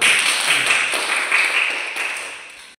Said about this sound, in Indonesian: Tepuk tangan kalian semua.